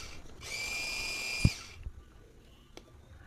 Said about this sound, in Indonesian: Kalau pakai chopper kayak gini, ini bagusnya untuk daging itu bisa jadi halus banget.